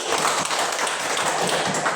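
Classmates clap together for a student in a classroom, a steady dense patter of many hands filling the whole moment without talk.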